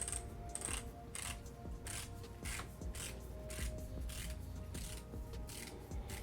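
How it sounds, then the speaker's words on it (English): The detachable grip of a CNC S1 tattoo machine clicks in a steady series of small, quiet ratcheting snaps, close up and evenly spaced, with no talking. "it is a click grip, as you can hear."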